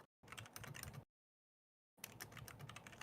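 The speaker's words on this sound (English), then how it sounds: "Stop clicking at me." Fast clicking on a computer keyboard or mouse, two close, faint bursts of rapid clicks separated by about a second of silence, with no voices.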